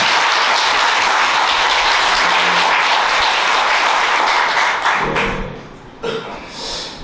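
A church congregation at a Friday prayer meeting breaks into loud, dense applause for the worship team and the pastor who led the singing, then thins out and fades near the end.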